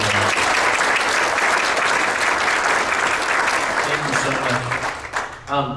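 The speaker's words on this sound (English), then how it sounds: "we need to give a real big round of applause to the Travel Council" A crowd in an auditorium at a Moscow, Idaho event gives a big sustained round of applause, loud and continuous, tapering off near the end as a few voices and the host begin to speak.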